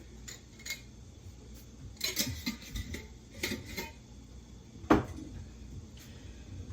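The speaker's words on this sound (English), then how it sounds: "I'm going to be getting out another saucepan" Pots and pans clattering in a home kitchen as a saucepan is pulled out of a low cupboard, with scattered metallic knocks and clinks and one sharper clank, fairly close and without voices.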